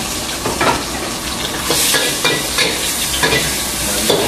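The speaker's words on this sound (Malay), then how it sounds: "Udang cuma masak ya, kemudian masuk bawang." Shrimp and onion fry loudly in a hot wok for nasi goreng at a char kway teow stall, with a continuous heavy sizzle and rhythmic scraping stirs close by.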